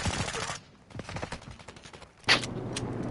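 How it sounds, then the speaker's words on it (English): Rapid bursts of gunfire in a shooter video game crackle in short volleys, with a sharp louder shot near the end; a faint voice sits briefly underneath. "Taking effective fire!"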